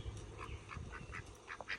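Several homestead ducks quack in quick repeated calls close by, a busy overlapping chorus from a flock kept in an enclosure.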